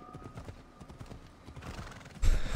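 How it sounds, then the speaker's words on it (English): The player's horse in the video game Assassin's Creed Odyssey trots with a steady, rapid clip-clop of hooves, then a louder burst that may be a neigh near the end. "Can I call my own horse?"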